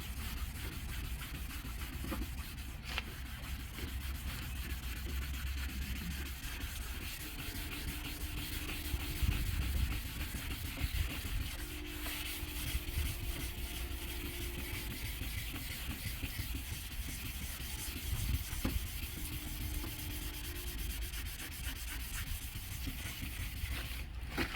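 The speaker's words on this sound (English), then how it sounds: "you dip it in the water and sand the headlight" Wet sanding of a rough, weathered plastic headlight on a 2008 Chevy Impala, the sandpaper dipped in water: a steady, continuous rubbing and scraping close by, with faint tonal hums in the background and no talk.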